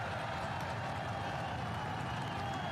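A home crowd at a Rhode Island FC stadium opener roars in a steady, dense wash of cheering and clapping, continuous and fairly loud throughout with no single voice standing out.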